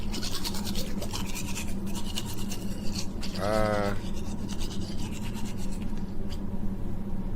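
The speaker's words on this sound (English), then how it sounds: "You ain't rinsed their toothbrush?" A toothbrush scrubs in a video game, a brief rhythmic bristly rasp lasting under a second, set against steady game background noise.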